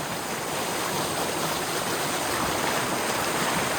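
Strong current of the Panguil River in Majayjay, Laguna rushes steadily and loudly, a continuous broadband wash of flowing water close by with no voices.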